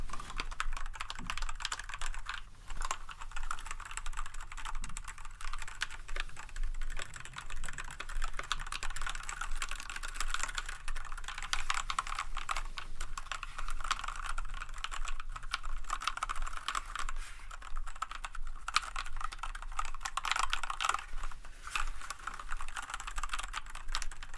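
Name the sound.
typing on a clicky computer keyboard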